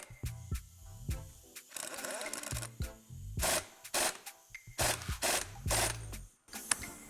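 Nut being tightened onto a car's pinion flange, with repeated close rasping and ratcheting strokes in bursts separated by brief pauses and a few sharp metallic knocks, no voices.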